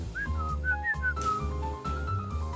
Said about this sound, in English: I actually whistled.